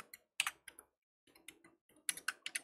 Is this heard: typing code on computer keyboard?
yes